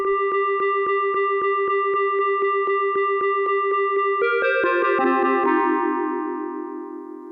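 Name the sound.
FM synthesis sound on Arturia MicroFreak synthesizer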